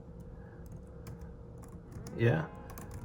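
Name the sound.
typing on Apple Magic Keyboard keys for iPad Pro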